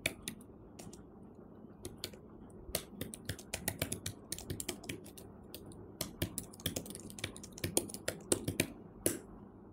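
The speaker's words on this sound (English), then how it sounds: "To overcome this issue, all you can do is type it slowly. Don't do it too fast." Rapid, irregular keystrokes on a tablet keyboard attached to a Huawei MatePad 11.5 PaperMatte while typing in WPS Office, with close, crisp clicks coming in uneven bursts over a low background hum.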